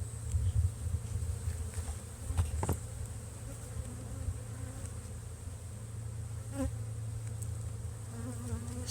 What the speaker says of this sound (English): just giving the bees a bit of smoke.